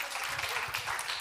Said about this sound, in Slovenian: Aplavz za naše državne uslužbenke, prosim.